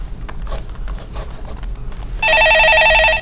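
A telephone in a Korean stock market call-in radio studio starts ringing loudly with a steady electronic trill, following a stretch of low background noise.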